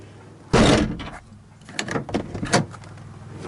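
An interior door on a Honda Integra opens after a handle repair: a sharp close clunk of the latch, followed by several lighter mechanical clicks and rattles of the door moving.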